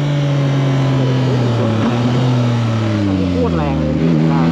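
A Yamaha MT-09 Y-AMT motorcycle with an automatic gearbox accelerates in sport mode, its engine tone climbing loud and close with steady harmonics and a shift partway through, while wind rushes past.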